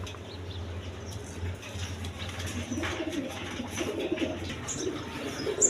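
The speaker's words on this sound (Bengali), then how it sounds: "এইখানে এক পেয়ার রেড কালার গররা কবুতর আছে" A pair of red Gorra pigeons alongside Giribaz high-flying pigeons coo faintly, soft low rolling calls surfacing intermittently against a steady hum and light background noise.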